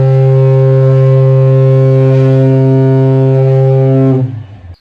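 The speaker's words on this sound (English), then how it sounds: "it is blaring loud, this foghorn" A Carnival cruise ship's foghorn near Ensenada blares as one loud, sustained, rich-toned blast held for about four seconds, then cuts off into a brief fading tail.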